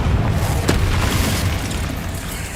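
Spell explosions from Confringo casting in Hogwarts Legacy burst into a dense, sustained rumble with one sharp crack near the start, loud and continuous throughout.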